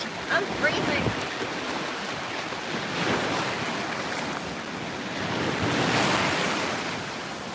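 Ocean waves wash onto a cold beach with strong gusting wind, a continuous roar of surf and wind buffeting the microphone, while people talk now and then.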